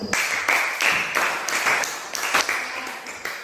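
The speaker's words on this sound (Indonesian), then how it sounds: "Tepuk tangan dulu" A classroom of students claps hands in rhythmic, somewhat uneven bursts, close and fairly loud, for a few seconds.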